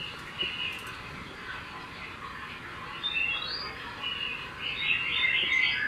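Several birds chirp and tweet in bright, overlapping bursts against a steady background hum inside a large model railroad exhibit, growing busier toward the end.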